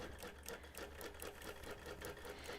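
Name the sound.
sewing machine stitching a quilt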